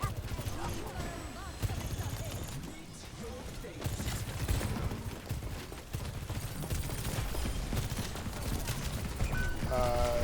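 Rapid video game gunfire bursts out of a dense, busy mix, sustained and loud for most of the stretch, with a player talking over it.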